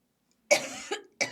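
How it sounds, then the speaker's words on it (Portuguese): Someone coughing after choking on water, two or three short, sharp, close coughs following a moment of silence. "Eu tava segurando a tosse."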